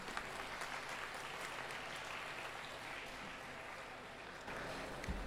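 An audience at a Tirunelveli Medical College graduation ceremony claps in a steady, even wash of applause that sounds somewhat distant and lasts about five seconds.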